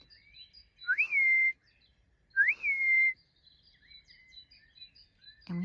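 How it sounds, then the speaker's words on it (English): A person whistles two identical rising-then-level phrases, clear and close, separated by a short pause, with faint bird chirps in the quiet background. "And we have a family whistle."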